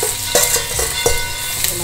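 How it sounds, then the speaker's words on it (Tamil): Onions sautéing in hot oil in a pan with garlic and bay leaf, a steady low sizzle broken by several short scraping stirs of a spoon, close and fairly loud. "வெங்காயம் நல்லா வதங்கின்னு இருக்கு."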